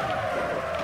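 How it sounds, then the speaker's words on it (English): A '57 Chevy skids with locked brakes in Wreckfest, a brief tonal tyre screech over low engine rumble, close and continuous for under a second. "Oh, lock the brakes up."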